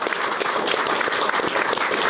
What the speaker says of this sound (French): On t'applaudit.